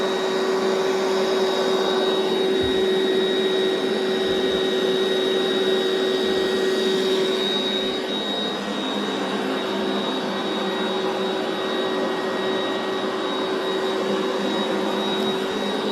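An electric pump inflating an air mattress gives a steady motor whine with a constant tonal hum throughout, close and fairly loud.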